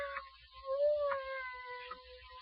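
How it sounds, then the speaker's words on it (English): A cat meows clearly in a radio drama, a few separate, close, moderately loud calls with a drawn-out, wavering tone against a quiet background. "I hear a cat. He must be right in this room"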